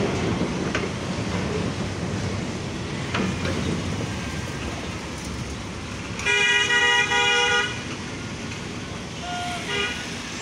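Locomotive 6012 from the Saidpur railway workshop moving away: a low rolling rumble, then one loud, steady horn blast lasting about a second and a half, followed by a short fainter toot near the end.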